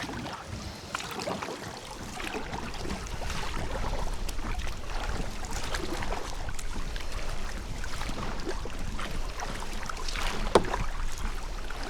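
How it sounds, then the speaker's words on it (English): Wind gusting around a kayak paddler on the Murray River in an old Necky Manitou, a steady broadband rush with water lapping faintly underneath, continuous for the whole stretch with no voices. "There's that wind."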